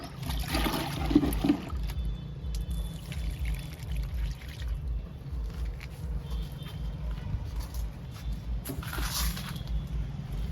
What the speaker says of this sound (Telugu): గన్నేరు మొక్కకి ఇస్తున్నాను లిక్విడ్.